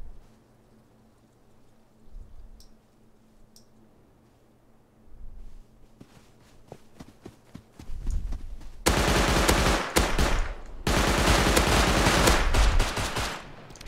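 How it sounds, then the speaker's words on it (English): Rapid automatic gunfire from an auto turret in the survival game Rust, starting as faint scattered shots and building into loud, sustained bursts of fire that dominate the last several seconds. "I feel like they have an auto turret."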